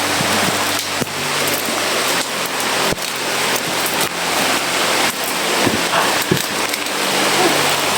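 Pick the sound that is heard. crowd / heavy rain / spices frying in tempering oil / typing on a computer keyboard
heavy rain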